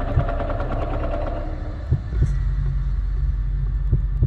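Slow, dull heartbeat thumps pulse at a steady rhythm over a low droning hum in the video game Doors, with a muffled throbbing quality and no voices.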